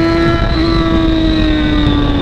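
A Yamaha XJ6 motorcycle engine running hard close by, a loud, steady buzzing drone with a strong tonal whine that holds high and drifts slightly in pitch throughout.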